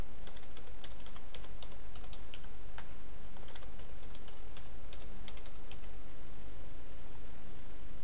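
Rapid typing on a computer keyboard while entering a new password, continuous dense key clicks close by over a steady background hiss, with no speech.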